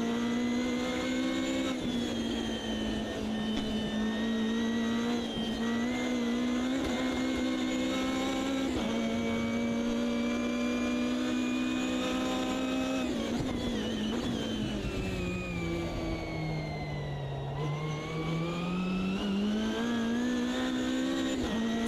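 A Ginetta G55 GT3 race car in Automobilista 2 at Kyalami holds a loud, continuous engine howl. The pitch climbs and drops through gear changes, with a long dip and recovery through a slower corner.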